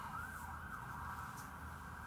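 Emergency vehicle sirens wail continuously with a rising and falling tone, loud and steady throughout, over low rumbling traffic noise.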